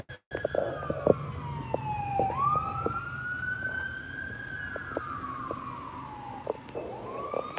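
Emergency vehicle siren with a rising and falling wail, fairly loud and close, over traffic rumble and short percussive knocks, no talk.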